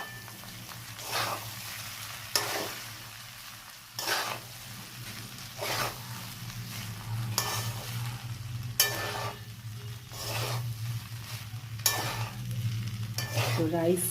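Rice is stir-fried with onion and garlic in a pan. It makes a continuous sizzle and low hum, broken by regular sharp spatula scrapes and clanks against the pan every second or two, and no one speaks.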